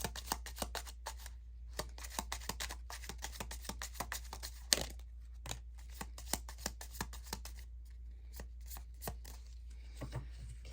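Tarot cards are shuffled close up and quietly, a steady run of soft riffling snaps and taps with brief pauses over a low background hum.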